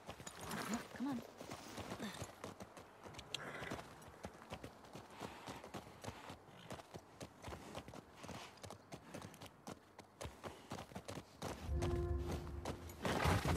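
Horse hooves clip-clop in The Last of Us Part 2, a steady run of quiet, rhythmic hoof beats with talk over them and a low rumble near the end.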